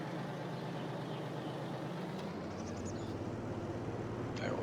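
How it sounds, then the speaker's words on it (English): A truck driving in Farming Simulator 22: a steady, moderate engine drone, with a brief hiss and a rising electronic tone near the end. "I will drive the truck back there."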